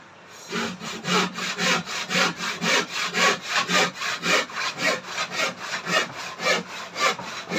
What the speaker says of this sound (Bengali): এই রাউটার মেশিন, এই মেশিনটাতে অনেক ধরনের বিট বানানো যায়।